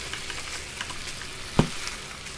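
Frying pan sizzling on a stove in the video game Cooking Simulator, a steady soft hiss of frying with a single brief clack partway through, heard alone without talk.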